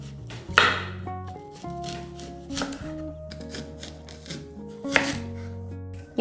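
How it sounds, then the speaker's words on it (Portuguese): Half an onion chopped with a knife on a board, a run of quick, crisp taps in short bursts, close and clear over soft background music. "Agora eu vou picar meia cebola."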